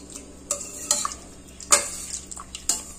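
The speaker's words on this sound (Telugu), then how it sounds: "దీన్ని బాగా ఇలాగ మెత్తగా చేసుకోవాలి" Cooked dal with mango being mashed in a pot, heard as scattered clinks and scrapes of a utensil against metal with soft squelching between them, close and intermittent, no talking.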